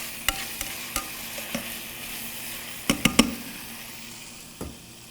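Vegetables and tomatoes for fajitas sizzle softly in a pan while a spoon stirs them, giving a steady low fry broken by several sharp scrapes and taps against the pan.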